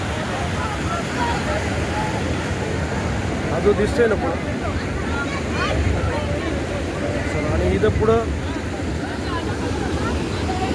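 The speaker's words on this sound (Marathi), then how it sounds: "बघा खळखळ पाणी बघायला हा आहे रंदा फॉल" Rushing water at Randha Falls roars steadily as a broad, continuous wash, with a person talking over it throughout.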